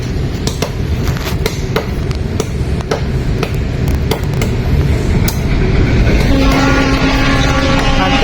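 A train rolls along the railway with steady low rumble and repeated sharp clanks of wagons over rail joints, growing denser and louder near the end where a sustained horn-like tone joins in.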